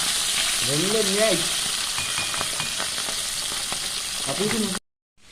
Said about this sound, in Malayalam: പത്തരക്ക് നന്നായി തിരിച്ചിടുക ആ നന്നായി പൊരിഞ്ഞു വന്നിട്ടുണ്ട്